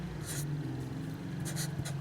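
A pen writes the word "client" on a surface in quick scratchy strokes, close and fairly quiet over a low steady hum.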